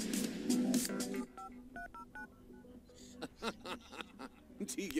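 Rapid electronic phone-dialing beeps from The Sims 3 video game, a quick series of short tones followed by sparse scattered blips. Game music and sound effects play underneath.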